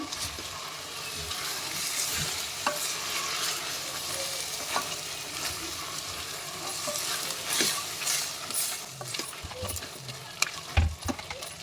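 Hyacinth beans, potatoes and onion are stirred in a frying pan, giving a steady sizzle with scraping utensil strokes and an occasional sharp clink near the end.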